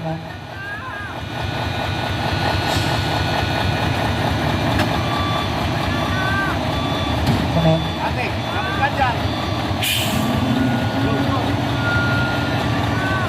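A trailer truck strains and fails on a climb, its engine droning heavily as it rolls backward, with intermittent beeps and a sharp hiss; people talk nearby over the steady engine noise.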